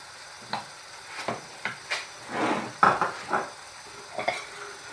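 A spoon or utensil stirs tagliatelle with mussels and prawns in a pan, making irregular light clinks and scrapes against the metal over a soft steady background.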